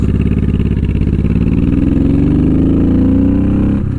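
A Honda VTX1800 cruiser motorcycle being ridden, its big engine giving a loud, steady, throaty rumble close by, with the pitch climbing gradually as it accelerates before easing off at the end.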